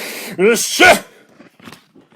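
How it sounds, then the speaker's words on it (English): A single sneeze bursts out after a sharp intake of breath, loud and close, followed by a few faint sniffs and rustles. "I sneezed a great sneeze."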